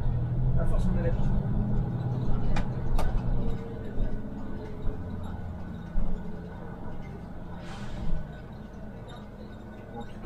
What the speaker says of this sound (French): ces bus-là, sur la substitution, c'est ce qu'il y a de mieux, c'est super. Un bon citaro là.